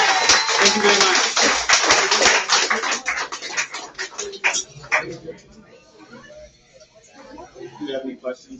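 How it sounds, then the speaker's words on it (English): A crowd applauds at a Negroni Week cocktail competition, giving a dense burst of clapping that thins and fades over several seconds, mixed with chuckles and voices. "Round of applause for Anthony."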